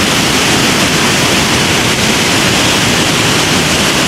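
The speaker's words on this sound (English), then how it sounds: "Here's some more of the falls." Steady, loud roar of a waterfall in Alaska, broadband rushing water with no breaks, close and filling the whole scene with no voices over it.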